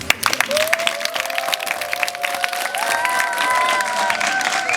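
An audience applauds steadily throughout, with dense, continuous clapping and a sustained high whistle or ululating tone over the crowd.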